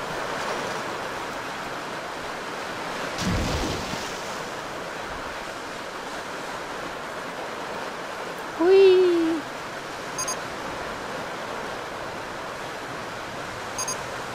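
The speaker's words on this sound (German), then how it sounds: "Oh, mit Wasserfall." Rushing water from a waterfall in RollerCoaster Tycoon 3 forms a steady wash of noise throughout, with a brief louder burst early on and a short tonal chirp midway.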